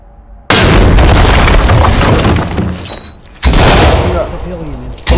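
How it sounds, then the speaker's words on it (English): In the Ready or Not video game, a flashbang grenade detonates during a breach. It gives a sudden loud, close blast with glassy crackle that holds at full level, then a second burst follows. Voices are heard faintly around it. "flashbang it and clear"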